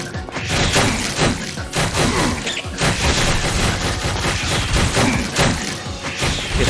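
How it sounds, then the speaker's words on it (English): A Gatling gun fires in the video game Penny Blood: Hellbound, a loud, dense stream of rapid shots with booming impacts that keeps going without a break. "this guy has like a Gatling gun or something"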